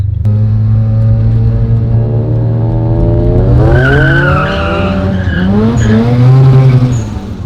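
Tires squeal loudly as a Mazda RX-7 FD skids and spins its wheels with traction control off on a hot day, the engine rumbling underneath while the screech rises and wavers in pitch.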